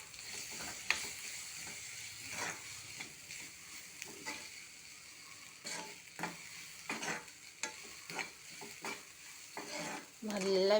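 Leafy greens with grated coconut, curry leaves and turmeric stir-fried in a pan, a sizzle under repeated scraping strokes of a spoon against the pan at an uneven rhythm.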